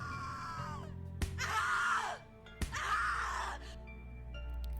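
A character in the video game The Cat Lady lets out two long, loud anguished screams, each one cut off, with sharp thumps between them and a low ominous drone in the background.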